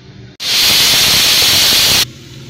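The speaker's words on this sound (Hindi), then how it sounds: "हमारे कुकर में 1 सीटी आ चुकी है।" A pressure cooker on high flame, cooking moong dal vadi with potatoes, releases a loud, steady burst of steam hiss lasting under two seconds, then cuts off abruptly to quiet kitchen background.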